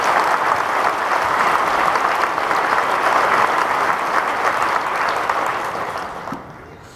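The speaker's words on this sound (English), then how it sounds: "So if we can give them a round of applause." A graduation ceremony crowd gives a senior advisor sustained applause, a dense wash of clapping hands that holds steady for several seconds and then fades out toward the end.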